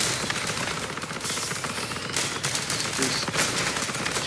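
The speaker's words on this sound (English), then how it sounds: "Fire and strafe at the same time." Rapid, continuous automatic gunfire in the vehicle combat game Crossout while strafing, a dense rattling barrage that stays loud throughout with no voices.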